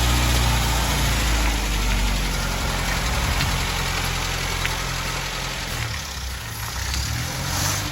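A rebuilt 1958 Land Rover Series 1 109 engine runs at a steady idle, a loud, close, continuous rumble with a slight knocking texture and no talk over it.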